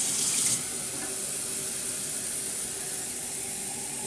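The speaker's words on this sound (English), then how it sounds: "Now I'm going to add that water I forgot to add" Water from a tap pours steadily into a soup pot for spaghetti soup, a continuous broad hiss and splash that is a little louder at first and then even.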